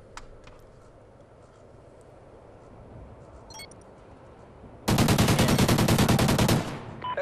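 A powerful gun in a video game fires a sustained rapid burst of automatic shots, loud and close, after a quieter stretch of ambient game noise with scattered faint clicks.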